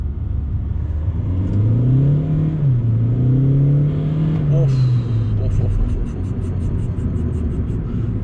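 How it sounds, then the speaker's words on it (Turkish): A Hyundai Accent Blue 1.6 CRDi diesel with 136 hp and a manual gearbox accelerating from inside the car, engine note climbing and dipping through a gear change, with a person talking over it. "felaket bir ivmelenme var arkadaşlar arabada"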